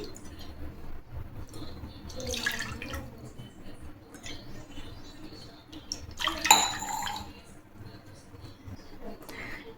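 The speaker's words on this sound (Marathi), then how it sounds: "या वाटीच्या सहाय्याने मी 2 वाट्या पाणी घेणार आहे." Water is measured out with a small bowl and poured, two bursts of splashing and trickling at a quiet distance over a low room background with faint clinks.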